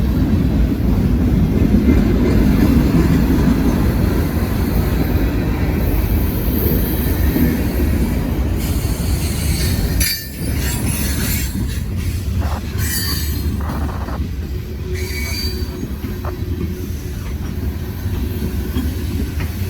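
A CSX freight train with double distributed power units rolls past up close, a loud, continuous rumble of rail cars with repeated high, piercing wheel squeals and metallic screeches rising over the din.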